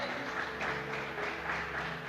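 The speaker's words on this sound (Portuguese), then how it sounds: "Quem pode aplaudir ao Senhor por esta palavra?" A church congregation applauds during a service after a sermon. The clapping is dense, steady and fairly faint, with a low hum of music or room tone underneath and no speech.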